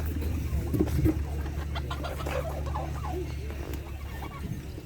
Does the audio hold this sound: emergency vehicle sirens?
no